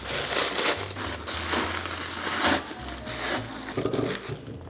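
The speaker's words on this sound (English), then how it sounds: "Rather than using floral foam, I'll just use some paper." Paper crumpled and crinkled by hand as it is stuffed into a new terracotta pot made to look antique, a dense, steady crackling rustle throughout with a few louder crushes.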